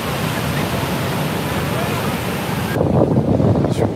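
Ocean waves at Copacabana beach in Rio de Janeiro roll in as a loud, continuous wash of surf close by, with gusty wind noise on the microphone and a surge of breaking water near the end.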